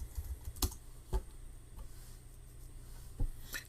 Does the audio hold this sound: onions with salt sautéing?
no